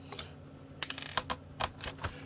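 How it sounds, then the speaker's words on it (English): Screws being undone from a wireless keyboard, faint irregular clicks and small taps in short clusters, quiet and close, with no talking. "Watching me undo screws from a keyboard."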